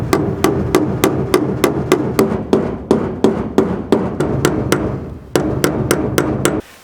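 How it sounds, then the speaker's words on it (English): Small hammer driving nails into a wooden board during a loft upgrade, a quick run of sharp, ringing blows struck close by in a steady rhythm with a brief pause near the end. "We have a little hammer right here. And a little bucket of nails."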